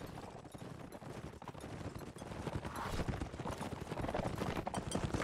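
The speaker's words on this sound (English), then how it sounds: "We have a black horse right here." Cavalry hooves clip-clop in a real-time strategy match alongside a black horse unit and dragoons, a dense rhythmic clatter mixed with scattered gunfire pops, steady and moderately loud throughout.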